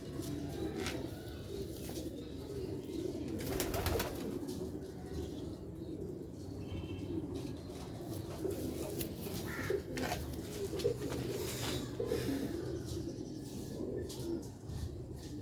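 Sialkoti black-faced pigeons for sale cooing steadily up close, with low throaty coos over a constant rustling background and a few brief knocks and flutters.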